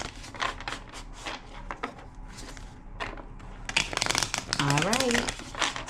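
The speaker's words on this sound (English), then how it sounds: "2 more shuffles." Tarot cards being shuffled by hand, crisp riffling and crinkling bursts in quick irregular runs, close to the mic, with a voice speaking briefly toward the end.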